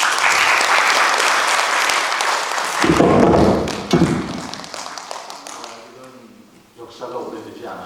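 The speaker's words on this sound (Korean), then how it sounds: "박수 쳐주실래요?" A large audience claps loudly at a public town-hall meeting with citizens, dense applause with some thumps, fading away near the end before a voice resumes.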